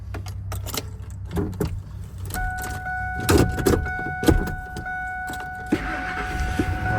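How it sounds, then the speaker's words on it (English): A Ford F150 engine is cranked with the key, a series of clicks and starter whirring followed by a steady high whine and growing rumble, close by with no speech. "Alright, so now it's cranking."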